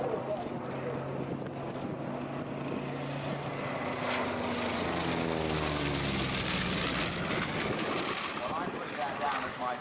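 A propeller aircraft drones overhead at the Dunsfold Wings and Wheels airshow, a steady loud engine hum with shifting pitch as it passes, while a commentator talks over it.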